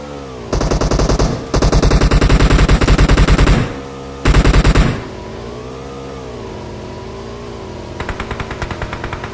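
Automatic weapon fire from PUBG Mobile rattles in long, loud bursts, then pauses while a vehicle engine drones and shifts pitch, before a lighter burst of shots returns near the end.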